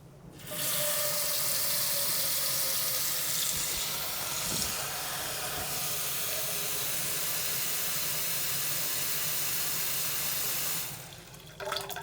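A kitchen tap runs steadily into a sink for about ten seconds, a loud even hiss of water that starts abruptly and cuts off near the end.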